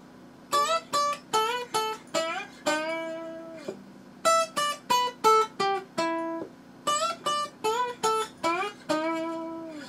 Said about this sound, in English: this is the sound of the glass slide